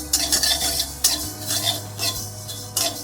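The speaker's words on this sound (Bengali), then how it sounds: "সর্ষেটা দিলাম, সর্ষেটা বেশি ভাজবে না," Mustard seeds stirred in a pan for Bengali mango pickle, with bursts of broadband scraping and light clinks of a utensil against the pan in an uneven rhythm, close and moderately loud, with no talk.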